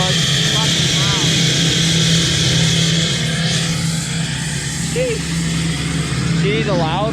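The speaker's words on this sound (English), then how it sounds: "She just kicked in the high idle, and the exhaust back pressure valve's closed, so it's fucking loud." A Ford F250 truck sits at high idle with its exhaust back pressure valve closed, giving a loud, steady droning rumble nearby while someone talks over it.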